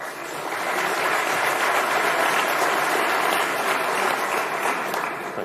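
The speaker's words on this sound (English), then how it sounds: "hold your applause till afterwards" Sustained applause from a conference audience at a talk on modern Java, dense and steady clapping that swells in and holds for several seconds.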